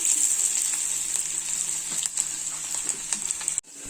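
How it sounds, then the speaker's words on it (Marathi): Finely chopped onion fries in hot oil, a loud close hiss with light crackles and occasional stirring, ending in a brief cutoff. "त्यानंतर बारीक चिरलेला कांदा याला थोडंसं ब्राऊन होईपर्यंत या तेलामध्ये फ्राय करून घेऊया"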